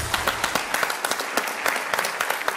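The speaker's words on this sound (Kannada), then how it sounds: "ಜೋರ್ ಚಪ್ಪಾಳೆ" A studio audience on a television game show breaks into loud applause, a dense continuous burst of many hands clapping throughout.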